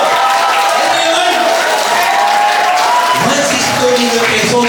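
Audience applause at a wholesalers orientation event, a loud, steady wash of clapping filling the room, with faint voices mixed in.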